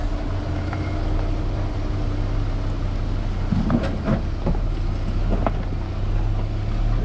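Small boat outboard motor running steadily, a constant low drone close by with wind buffeting the microphone and a few knocks, no talking.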